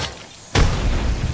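A frag grenade goes off in the Apex Legends game, one sudden loud boom that cuts in after a quiet stretch and then rolls on as a broad rumble.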